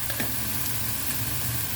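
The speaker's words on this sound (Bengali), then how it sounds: "এখন মশলাটা ভালোভাবে সুন্দরভাবে কষিয়ে নিচ্ছি।" Mixed vegetables and spices sauté with salt in a pan, a steady, close frying sizzle holding at even loudness throughout, with no voices.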